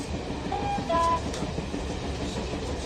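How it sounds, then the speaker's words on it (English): A train slowly travelling northwards rumbles steadily in a sound-effect bed for a radio drama, with a continuous low rolling noise and a few brief high whistling tones near the start. "We sat in a sullen train which dawdled northwards."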